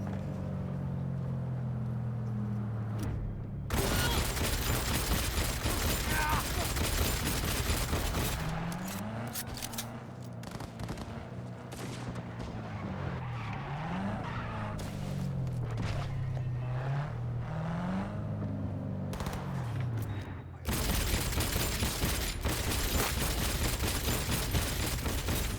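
Vehicle combat in the video game Cyberpunk 2077: loud bursts of rapid gunfire mixed with engine noise and wavering tire skids, with dense action sounds running nearly the whole time.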